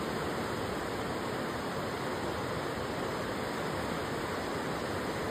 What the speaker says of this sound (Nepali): आजको खोला र आजको वेदर तपाईँहरूले हेर्न सक्नुहुन्छ एकदमै ठुलो खोला बढिराखेको छ